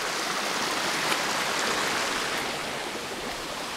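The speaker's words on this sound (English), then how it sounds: "So this is the spring where it actually comes out of the forest." Spring water flowing out of a forest in Mexico rushes steadily with a broad, hissing splash, like a small stream pouring nearby, continuous and fairly loud with no voices.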